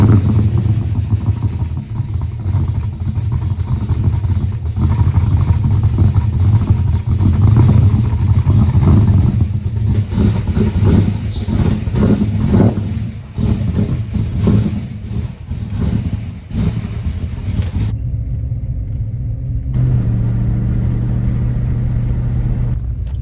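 A Holden VN Commodore with a 5L V8 drives along and revs, a deep throaty engine rumble rising and falling through gear changes for over fifteen seconds, then settling to a lower idle-like drone near the end.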